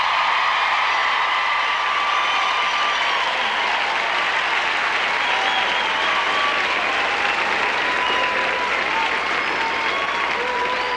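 Concert audience at an arena civic center applauding a singer, a dense, steady wash of clapping and crowd noise that stays loud and even throughout, with no talking over it.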